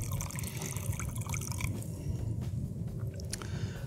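Water laden with sediment drains from the bottom of a hot water heater tank into a bucket, a steady splashing, gurgling pour with small drips and knocks on top.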